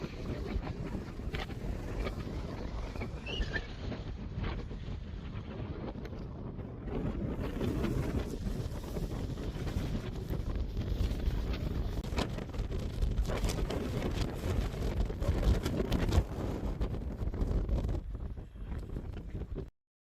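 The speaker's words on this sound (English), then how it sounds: "It's cold and windy." Steady gusting wind roars and buffets continuously in cold Death Valley, California, with low rumbling blasts that swell and fade, loud and close.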